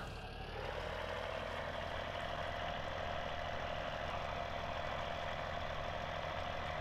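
A John Deere 4630 tractor engine idles in the Farming Simulator 17 video game, a steady, quiet low drone with a faint rise at the start and no talk.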